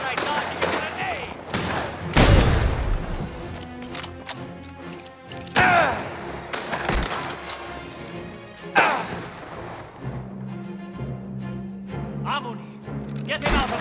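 Gunfire and a grenade blast in the video game Mafia The Old Country: loud, close bursts of shots and heavy booms, with shouted voices among the battle.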